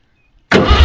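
A vintage JCB excavator long abandoned by the beach cranks over: a short silence, then its engine abruptly churns loud and close.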